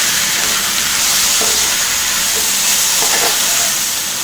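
Mutton pieces sauté in hot oil with a loud, continuous sizzle and hiss, with a few soft stirring scrapes in the pan.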